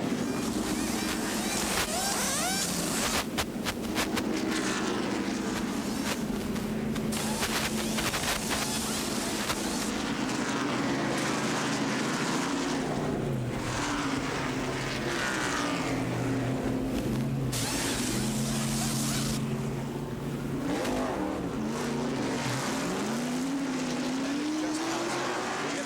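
A 1989 NASCAR stock car pit stop for Rusty Wallace at Rockingham, heard from the crew, with a roaring engine, rapid bursts of air wrench whirring, and shouting voices over a loud, continuous din.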